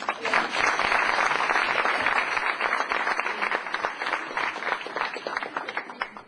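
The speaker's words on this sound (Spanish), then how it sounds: "Un aplauso a las mujeres." An audience at a conference on grief, forgiveness and restorative justice applauds the women, a dense, loud burst of clapping that holds steady and then tapers toward the end.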